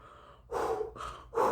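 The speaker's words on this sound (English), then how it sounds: "Heavy breathing" Three heavy, rasping breaths follow one another in steady rhythm, close and fairly loud, with no talking.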